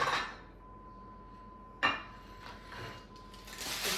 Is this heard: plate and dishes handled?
yes